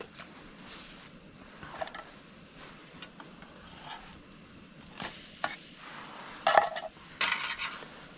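Food fries in a pan on a camping stove on a mild February night, with a soft steady sizzle broken by several close scraping and stirring bursts that grow louder toward the end.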